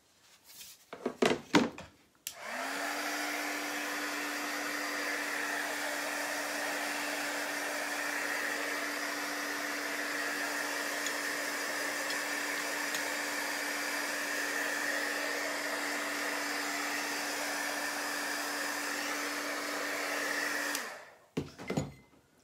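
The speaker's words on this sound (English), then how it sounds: "I'm going to dry this" A hair dryer blows steadily and loudly for about eighteen seconds to dry chalk paint on a wood piece, with a constant whirring hum, switched on and off with clicks at each end.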